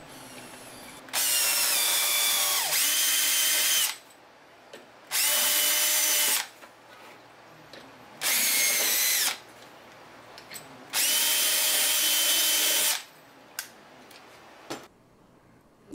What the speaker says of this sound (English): I just put the speaker in and drilled.